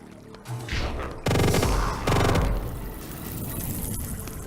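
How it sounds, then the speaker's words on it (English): A machine gun fires in the VR shooter Compound: loud dense bursts of rapid shots cut in abruptly, pause briefly, then resume, followed by a lingering clatter and fading reverb. "Got this little kind of machine gun here."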